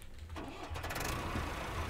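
Tractor engine in the farming game Ranch Simulator starting up and running steadily, a loud continuous mid-pitched rumble that holds for the full two seconds with no voices over it.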